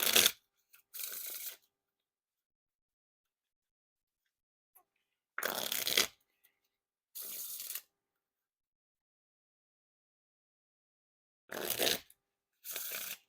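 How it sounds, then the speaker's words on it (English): Brief riffle shuffles of 5th Anniversary PCD playing cards, several short crisp bursts of cards fluttering together, separated by near silence, close and clear. "And now time for the riffle shuffle or bridge shuffle."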